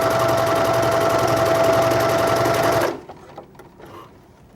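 Cover stitch sewing machine running fast and continuous while stitching pleats in stretch fabric, a loud close rattling hum that stops abruptly, followed by quiet handling sounds.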